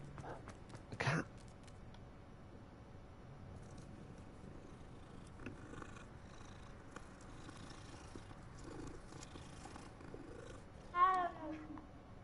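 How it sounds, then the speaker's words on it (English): A cat purrs in Hogwarts Legacy, a faint, steady, low rumble broken by two short louder sounds, one near the start and one near the end. "A cat."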